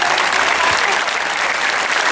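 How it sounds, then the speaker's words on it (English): Sustained, dense applause from a large outdoor crowd at a marriage equality rally in Taylor Square, Sydney, steady and loud throughout without a break. "So a big round of applause and a thank you to Councillor Foster for that"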